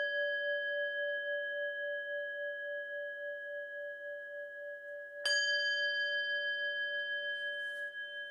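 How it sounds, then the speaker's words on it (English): A singing bowl bell is struck during a meditation session, giving a sustained, pure ringing tone that hangs alone, then a fresh strike around the middle brings a brighter, louder ring that slowly decays. "ring the bell again, the singing bowl, to just take us to this final meditation"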